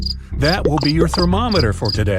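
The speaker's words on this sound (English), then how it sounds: "Have you heard the crickets chirp?" Crickets chirp with a steady high trill that runs the whole time beneath a person talking.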